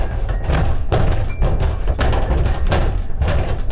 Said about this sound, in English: it has now moved to banging at the door, louder and louder the longer I dally